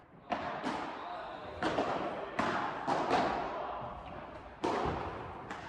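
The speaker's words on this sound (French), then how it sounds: "Dommage, la balle touche le plafond." A padel ball strikes the ceiling and other hard surfaces in an indoor match, giving sharp, echoing thuds at irregular intervals with some room reverberation.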